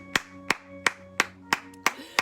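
Congregation clapping in unison during a worship service, seven sharp, evenly spaced claps at a steady beat, with a sustained organ-like tone held underneath.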